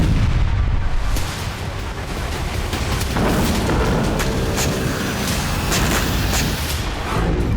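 War footage of Russian tank brigade shelling a Ukrainian stronghold in Kherson, with loud, continuous rumbling artillery fire and overlapping explosions forming a dense, unbroken roar throughout.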